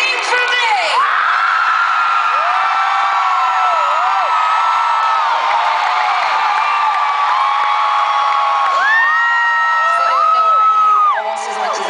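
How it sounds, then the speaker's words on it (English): A concert crowd at a show in Tulsa screams, whoops and cheers in a loud, sustained roar, with shrill high voices rising and falling and swelling again near the end. "Scream for me!"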